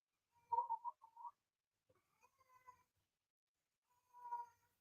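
A house cat meows in three separate bursts, a drawn-out tonal call at the start, a softer rising one in the middle and a final meow near the end, fairly close with quiet gaps between.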